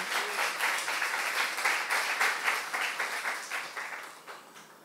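A church youth congregation claps together in a sustained round of applause, dense and steady, gradually thinning toward the end, with no speech over it.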